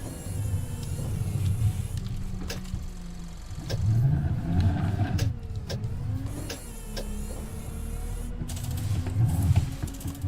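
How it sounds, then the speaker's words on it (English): A First bus engine, a Streetlite, revving in snow as it struggles for grip, with a rising and falling drone in uneven surges and mechanical whirs over a steady rumble, near and fairly loud. "Oh, it's decided to rev for whatever reason."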